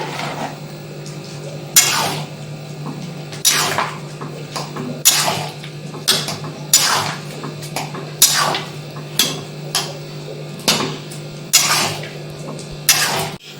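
Repeated sharp metallic clanks of a lid being set on a cooking pot while vegetables boil for sago khichdi, several distinct clatters over a steady low kitchen hum.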